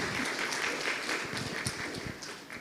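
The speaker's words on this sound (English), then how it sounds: "please join me in applauding our remarkable speakers and moderator." Audience applause at an international workshop session, a steady dense wash of many hands clapping throughout, loud and close, tapering slightly at the end.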